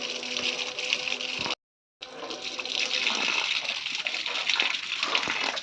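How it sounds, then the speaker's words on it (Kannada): Water pours and splashes over a dirty slab being cleaned, a steady rushing gush heard nearby, broken by a brief gap before resuming. "ನೋಡಿ ನೀರು ನೋಡಿ ಸ್ಲ್ಯಾಪ್ ಇದ್ದು ಹೆಂಗೆ ಬೀಳ್ತಾ ಇದೆ"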